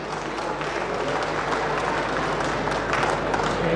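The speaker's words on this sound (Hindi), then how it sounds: "तालियों की गड़गड़ाहट लगातार होती रही।" An audience at a political welcome event claps continuously in a broad, rumbling wash of applause, with a murmur of voices mixed in throughout.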